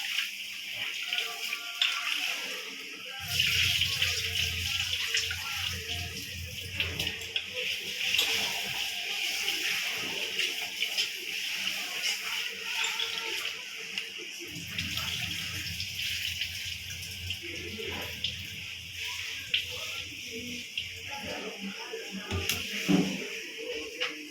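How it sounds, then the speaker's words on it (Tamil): Rice is rinsed and washed repeatedly in water for tomato rice, with steady splashing, swishing and running-water sounds continuing throughout, close and moderately loud, alone. "நல்லா அரிசி நல்லா களைஞ்சி வச்சுக்கணும் அப்படி ஒன்றுக்கு மூணு நாலு தரம் நல்லா வாஷ் பண்ணி எடுத்து வரணும்"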